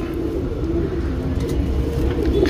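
Steady low cooing of a female Nagina Tambral pigeon close by, continuous and rhythmic over a soft background hum.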